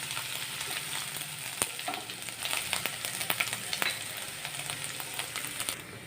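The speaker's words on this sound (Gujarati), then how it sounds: "એક ચમચી જેટલી આદુ મરચાંની પેસ્ટ એડ કરીશું અને સરસ રીતે સાતળી લઈશું" Ginger-chili paste and sesame sautéing with mustard seeds and cumin in a pan give a steady, close frying sizzle with scattered stirring clicks and crackles and no voices.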